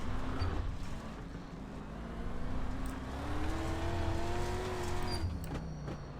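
Dirt street stock race cars in iRacing roaring past on a dirt oval, a steady loud engine drone with rising pitch as a car accelerates and passes by close.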